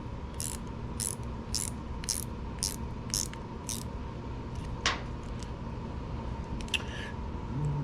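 A part on a snowblower carburetor is tightened back up, giving a quick series of small, faint ratcheting clicks followed by a few scattered metallic ticks against a quiet room hum.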